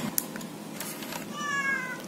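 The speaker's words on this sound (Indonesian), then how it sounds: "Nah, itu suara kucing." A meow sound effect from a Pentax MX-1 compact camera at power-on, one short synthetic cat meow that rises and falls near the end, heard close and alone.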